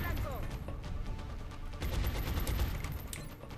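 Sustained suppression fire on a target in the video game XCOM: Long War, a dense, continuous burst of loud gunfire crackling throughout with a few voices mixed underneath.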